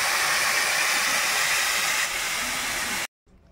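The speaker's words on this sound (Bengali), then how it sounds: "এবার জল দিয়ে দেবো" Water poured into a hot curry pan of potatoes and green chillies, a loud steady hiss of steam that runs unbroken for about three seconds and then cuts off abruptly.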